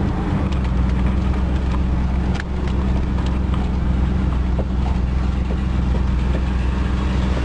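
A 1978 Ford LTD's engine runs at a steady idle, a continuous low rumble that stays even and close throughout, with a faint clunk partway through.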